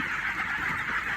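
A flock of chickens in a coop, being fed lime powder and fattened, keeps up a dense, continuous, fairly loud clucking chorus.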